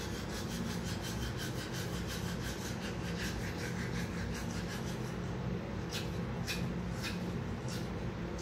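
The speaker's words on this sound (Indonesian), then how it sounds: "Dan kita gosok di gigi kita." A toothbrush is worked over teeth in fast, close-up back-and-forth scrubbing strokes, a steady rasping rub that continues throughout without speech.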